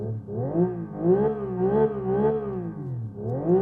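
A Genesis GV60 Magma electric car plays its simulated engine sound, a soft, synthetic droning tone that rises and falls in waves as it revs, fairly quiet and close inside the cabin.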